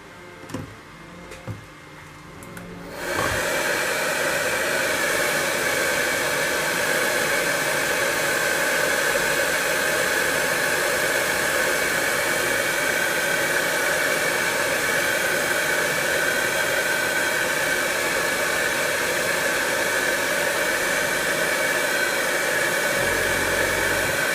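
A hair dryer switches on after a few seconds of quiet handling noises and blows a loud, steady, hissing rush of air to dry paint on a scale model, running unbroken to the end.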